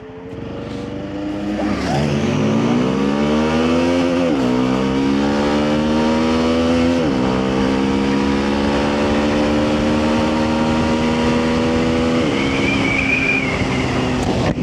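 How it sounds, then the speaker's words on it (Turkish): A Honda CL250 E-Clutch motorcycle accelerating hard at full throttle, engine note climbing steadily in pitch, dropping sharply at two upshifts, then rising again; loud, close and continuous with no talk. "Saniyelerinizi açtıysanız 3, 2, 1 dip gaz açacağım."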